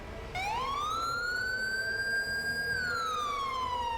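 An ambulance siren from a GTA 5 emergency-vehicle mod in heavy game traffic starts abruptly and holds a loud, rising then falling electronic wail, close and steady, with no talk.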